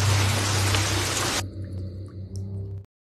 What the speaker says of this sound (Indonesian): Hingga menjelang malam hujan di luar belum juga reda.